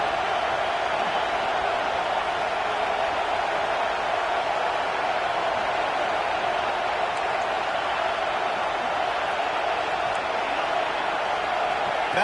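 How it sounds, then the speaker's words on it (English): A packed football stadium crowd roars on third down during a Penn State versus LSU game, a dense, unbroken wall of noise that holds steady and loud for about twelve seconds. "Decibels rising as the crowd gets behind this defense on third down."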